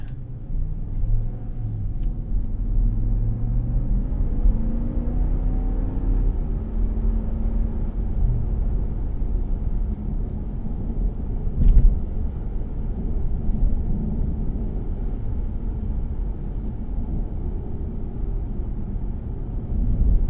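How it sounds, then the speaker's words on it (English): Inside a 2024 Ram 1500 Rebel 4x4 pickup on the road, a steady low rumble of engine and tyres fills the cabin, with a brief thump partway through and no one speaking. "Let's do a little bit more driving"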